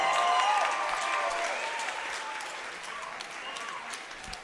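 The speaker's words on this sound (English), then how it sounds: "one more round of applause for a great fight!" Crowd applause after a women's bantamweight fight, loud at first and slowly fading, with a voice speaking over the clapping near the start.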